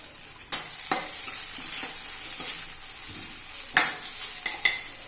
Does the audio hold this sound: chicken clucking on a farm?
no